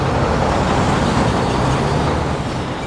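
Road traffic on an overhead roadway sends a steady, loud wash of vehicle rumble and hiss, continuous with no pauses and no voices.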